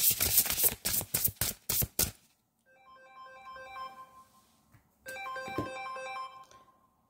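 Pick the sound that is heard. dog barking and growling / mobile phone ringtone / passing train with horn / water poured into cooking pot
mobile phone ringtone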